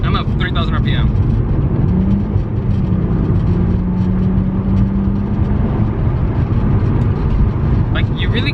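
A BMW 330i drift car fitted with an eBay header, held at full throttle at 3000 RPM: a steady, fairly subdued low engine drone with a constant hum and no sharp changes in pitch.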